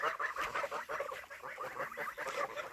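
Small geese grazing outdoors give soft, busy honks and chattering calls in a continuous irregular stream, fairly quiet and close, with no voices over them.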